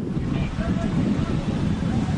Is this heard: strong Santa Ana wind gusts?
yes